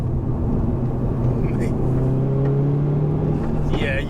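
Hyundai i30N Performance hot hatch with a 325bhp engine pulling hard in third gear, a steady loud engine drone with rising tone running continuously under road noise, with people talking over it.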